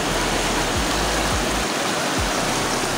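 Cold mountain stream water rushing steadily in a continuous, loud broadband wash, close by, with no voices over it.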